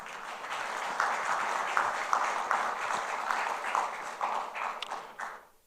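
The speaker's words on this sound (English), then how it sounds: "Please give them all a big round of applause." Summit attendees at an engineering conference applaud the supporting partners, a sustained, even round of many hands clapping that tapers off sharply at the close.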